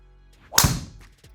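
A Titleist GT metal wood strikes a golf ball with a single sharp, crisp crack, close by, its ring dying quickly.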